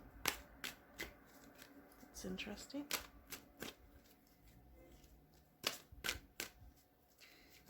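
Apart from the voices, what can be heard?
shuffling tarot cards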